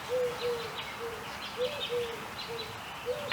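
Owl calling outdoors in a quiet daytime setting, a soft repeated low hooting that comes in short paired notes several times, moderately distant and alone with no talk.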